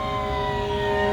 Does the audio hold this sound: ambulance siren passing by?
yes